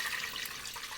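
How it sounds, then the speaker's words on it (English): Water running from a tap into a cooking pot, a steady bright hiss and splash, quiet and close, with no talk. "So you're going to fill a pot with water."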